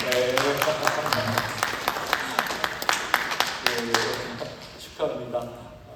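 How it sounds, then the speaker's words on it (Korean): A church congregation's men clap in applause to congratulate an upcoming baby shower during a Sunday service, a dense patter of hand claps running throughout under and around a speaking voice. "박수로 축하해 주실까요?"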